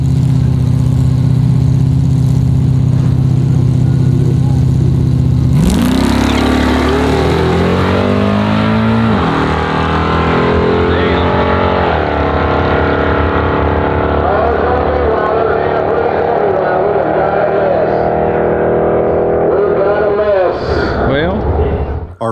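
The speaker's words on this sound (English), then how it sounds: "So we start off our first test run just leaving the car in drive and letting it shift itself for our first baseline run" A Chevrolet Malibu drag car launches from a drive start on a shakedown test run at a drag strip, its engine droning steadily before roaring up hard and pulling through rising revs as the automatic shifts through its gears, loud and sustained throughout.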